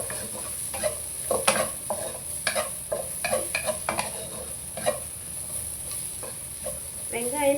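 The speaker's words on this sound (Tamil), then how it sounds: "வெங்காயம் போட்டாச்சு, கொஞ்சம் நேரம் வேகட்டும்." Sliced onion is stirred and sautéed in a pan for tomato rice with potato fry, with a steady sizzle under repeated scraping and clinking of a spoon against the pan.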